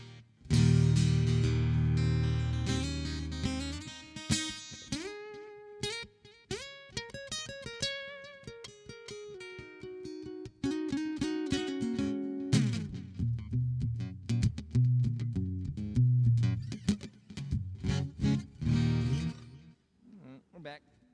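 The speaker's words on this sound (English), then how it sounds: "Never really quite liked the digital reverb on this thing." Electric guitar played outdoors at a cellar venue through an amp with its digital reverb engaged, strummed chords and picked notes ringing out with a washy tail, loud and continuous with brief pauses.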